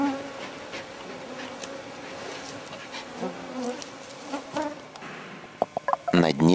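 Mosquitoes buzz in the western Siberian wilderness on the Yamal route, a thin continuous drone of insects hovering close, with a few sharp clicks and louder bursts near the end.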